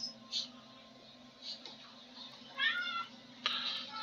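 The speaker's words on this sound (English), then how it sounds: "Meow to you too." Several faint cat meows come from mid-distance, short rising calls spread across a few seconds over steady low background hum, with no speech.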